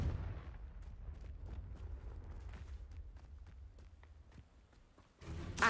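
Confringo fire-blast spell in Hogwarts Legacy, a series of booming impacts and crackling explosive bursts with footsteps between, ending in a louder blast.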